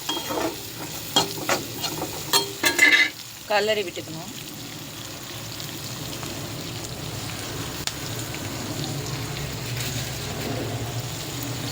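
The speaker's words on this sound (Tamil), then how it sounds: "இதை நல்லா என்ன பண்ணோன்னா நல்லா அப்படி கிளறி விட்டுக்கோங்க. இது பொன் முருகலாக ஆகணும்." Avarakkai (broad bean) thokku being stirred in a pan, a spoon scraping and clattering at first, then a steady soft frying sizzle that carries on with no talking.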